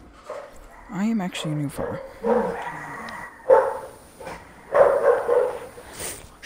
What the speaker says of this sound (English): My dogs won't shut the fuck up.